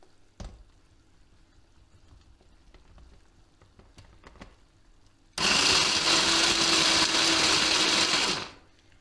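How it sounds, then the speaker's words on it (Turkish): A food processor chops 250 grams of walnuts in a home kitchen while a şıllık dessert is being made. Quiet clatter comes first, then a loud, close burst of motor whirring and grinding that lasts about three seconds and stops abruptly. "Ceviz içimizi rondodan geçireceğiz."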